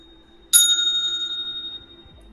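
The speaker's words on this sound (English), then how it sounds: "Do another bell ringing, Wendy." A small hand bell gives one bright, clear strike indoors and then rings on and slowly fades for about a second over a quiet room.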